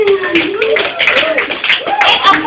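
A high school assembly crowd claps in a burst of applause, with children's voices shouting and chattering over the clapping throughout.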